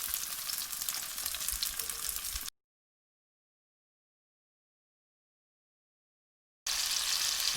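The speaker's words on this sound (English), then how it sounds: "let's get to grilling these cubes with the sesame stuck to it" Sesame-coated tofu cubes fry in hot oil with a steady, close sizzle. The sizzle breaks off into a long silence, then returns just as loud with no talk.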